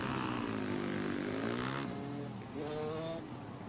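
Junior SM65 supermoto motorcycles racing through the final corners of a kart track round, engines buzzing loudly and continuously with rising and falling revs as they pass close by.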